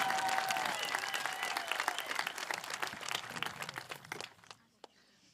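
Graduation crowd at a high school ceremony applauding to welcome the class of 2022 student body president, a dense wash of clapping that holds steady and then trails off into scattered final claps.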